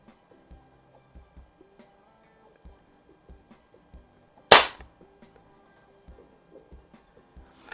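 A single sharp crack from a vintage Crosman 600 or 2100 air rifle fired at a paper target, loud and close, with faint small clicks and handling noises before and after.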